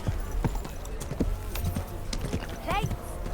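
Horse hooves clip-clopping in a steady rhythm while riding in the video game Kingdom Come: Deliverance II, with a short whinny near the end and someone talking over the hoofbeats.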